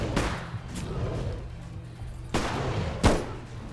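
Two sharp, loud bangs ring out a moment apart near the end, like gunshots during a homemade bigfoot chase outdoors, set against steady background noise.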